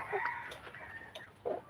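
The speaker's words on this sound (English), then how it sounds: "feeding our chickens here" Chickens cluck in short bursts at feeding time, with a brief crow-like call mixed in, all close and moderately loud with no talk.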